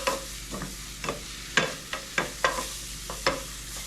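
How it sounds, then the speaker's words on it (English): Cumin, cinnamon and salt stirred in a pan for Moroccan chicken, a spoon scraping in about eight distinct strokes over a soft steady sizzle, close and fairly quiet. "stir this up, get this nice and fragrant"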